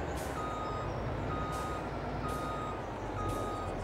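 A truck in Farming Simulator 22 reversing, its beeper sounding four evenly spaced tones over a steady low engine drone, clear but moderate in level, with no talking.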